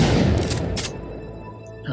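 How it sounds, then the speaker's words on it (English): A single heavy shotgun blast in an Unreal Engine 4 third-person shooter booms loudly at the start and rolls off into a fading tail, heard close and alone. "I'm going to grab this shotgun and grab this ammo. I'm going to load. I'll test fire."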